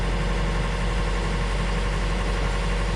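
A Yanmar 4JH3 marine diesel engine idles at a warm running temperature, giving a steady, close, even drone with low rumble and no change in pace throughout.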